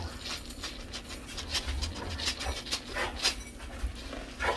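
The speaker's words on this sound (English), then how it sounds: "You're gonna hear my dog." A dog pants rapidly and whimpers close by, with quick breathy huffs and short high whines repeating throughout.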